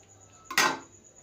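A single sharp clink of a serving utensil against a plate as soybean nutri keema bhurji is served, brief and close, with no talk.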